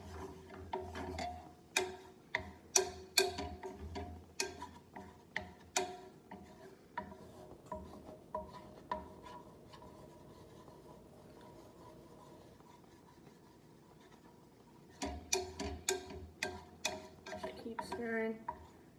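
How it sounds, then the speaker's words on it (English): A spoon stirring jam in a pan on a low simmer, giving irregular clinks and scrapes in bursts with a quieter stretch in the middle, close and moderately faint. "we're just gonna mix this around until I think that is done"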